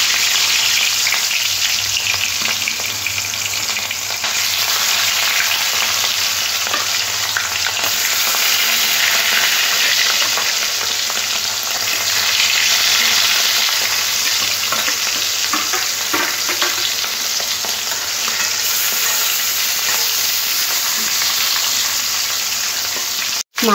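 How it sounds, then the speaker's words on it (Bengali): Pieces of catla fish coated in salt and turmeric fry in hot mustard oil in a pan, giving a loud, continuous close-up sizzle and crackle throughout with no talking. "খুব ভালো গরম হয়ে গেলে কাতলা মাছগুলো তেলের মধ্যে দিয়ে লাল লাল করে ভেজে নেব"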